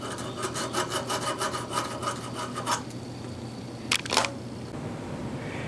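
A half-round hand file rasping across a cast lead paperweight, a run of quick rhythmic back-and-forth strokes up close, then a pause and two short final scrapes.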